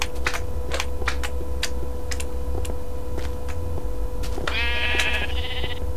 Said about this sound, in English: sheep as far as the eye can see